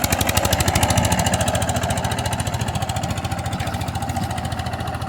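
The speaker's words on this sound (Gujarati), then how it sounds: "જો આગળ ટ્રેક્ટર ચાલ્યું જાય છે ખોરણીયાથી" A tractor engine throbs steadily and close, with a fast rhythmic chug throughout, as the tractor drives across a village farm field spreading 20-20-0-13 fertilizer while chickpea sowing goes on behind; no voices.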